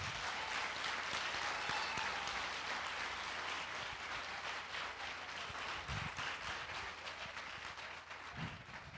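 Congregation applauding God during a church sermon, a steady wash of many hands clapping that fills the room for several seconds, with a couple of brief low thumps near the end.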